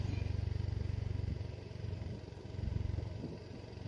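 On a steep downhill road near a bridge, a ridden motorcycle gives off a low, continuous engine drone that pulses a little, then eases and grows rougher toward the end, with no talking.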